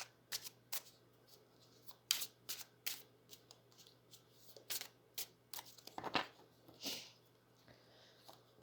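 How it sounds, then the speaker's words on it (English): Tarot cards shuffled by hand in a quiet room, a run of crisp riffling bursts and soft slaps at an irregular pace, close and fairly faint over a low steady hum. "Let's just get some couple tarot cards on his finances."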